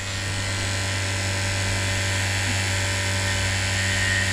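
A cordless vacuum pump runs at a steady, close, buzzing drone with a high whine on top, its speed creeping up slightly across the few seconds, heard alone.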